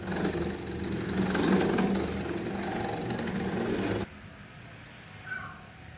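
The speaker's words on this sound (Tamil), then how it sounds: "ஃபேனில் டேபிள் ஃபேனில் தேங்காய் திருவ போகிறோம்" A table fan motor being used to grate coconut, producing a steady, rough whirring and grinding drone that cuts off abruptly partway through, followed by a quiet hum and a faint click.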